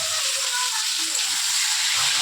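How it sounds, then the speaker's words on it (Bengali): Potato, papaya and flat beans fry in a pan for a home-style Bengali dudh shukto, giving a steady, close broadband sizzle that holds evenly throughout, with a faint background voice. "পেঁপের পর আমি শিমটাও এর সঙ্গে একটু ভেজে নেব।"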